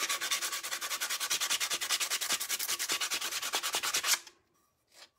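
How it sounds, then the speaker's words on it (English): An epoxy-coated tumbler being sanded by hand: rapid, even back-and-forth rasping strokes, close and steady for about four seconds, then a pause and one short final stroke. "you're sanding it, you're scuffing it up"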